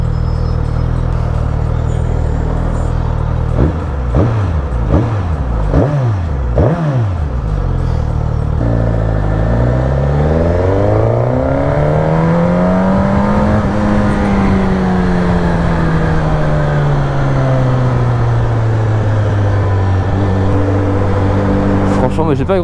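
A Suzuki GSX-S 950 motorcycle accelerates hard through its gears, with quick rising engine pitch sweeps early on, then a long climbing and falling engine note, loud and close with wind noise. Someone talks over it.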